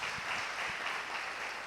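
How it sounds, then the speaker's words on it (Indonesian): A church congregation claps together at a Sunday service, a steady, fairly quiet wash of applause running evenly through the whole moment with no voices over it. "Beri tepuk tangan buat Tuhan Yesus."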